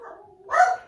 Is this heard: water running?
no